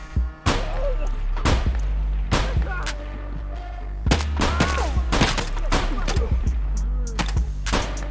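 Repeated gunfire from shooting scavs in the video game Escape From Tarkov, with loud, sharp shots in uneven bursts spread across the clip and faint game sounds between them.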